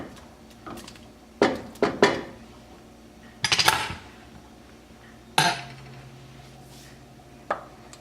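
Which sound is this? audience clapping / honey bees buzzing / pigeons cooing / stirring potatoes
stirring potatoes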